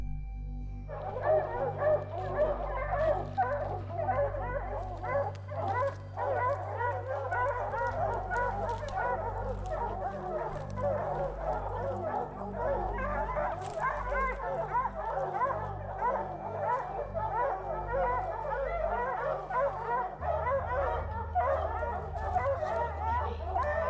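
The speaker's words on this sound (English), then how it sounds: "The dogs were on a bear just minutes after hitting the ground." Pack of hunting hounds barking and baying steadily on a bear's trail among large mature pine trees, dense overlapping yelps carrying on without a break, with a low engine-like rumble underneath.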